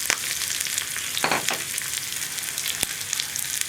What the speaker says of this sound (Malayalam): ഇതിലേക്ക് 1 ടീസ്പൂൺ കടുക് ചേർക്കാം. കടുക് പൊട്ടി കഴിയുമ്പോൾ നമ്മൾ എടുത്തു വെച്ചിരുന്ന ഉള്ളി ഉണ്ടല്ലോ